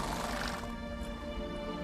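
A horse in the video game The Witcher 3 gives a close, loud whinny that fades out over a couple of seconds, with a rising and falling pitch over a dense background.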